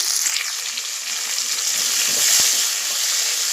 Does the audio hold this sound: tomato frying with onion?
yes